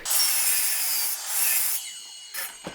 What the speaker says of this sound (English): cut this at 12 inches first